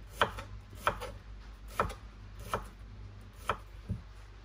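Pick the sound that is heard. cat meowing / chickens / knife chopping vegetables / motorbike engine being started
knife chopping vegetables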